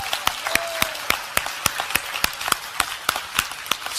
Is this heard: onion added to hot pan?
no